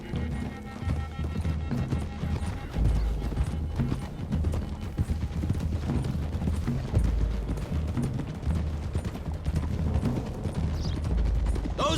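Horses gallop in Red Dead Redemption 2, a dense rapid clatter of hooves that runs steadily throughout, with occasional whinnies and mechanical rattles, loud and close, while a voice speaks now and then over it.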